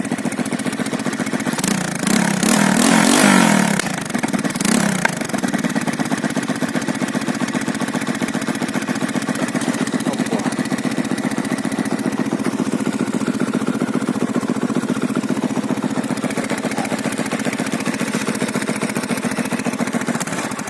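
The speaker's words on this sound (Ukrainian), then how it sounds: "мопитка робить стабільно. Обороти не плавають." A Delta 125 moped, repaired after losing compression and refusing to start, idles at a steady, unwavering engine speed, with a brief louder rev near the start before settling into an even putter.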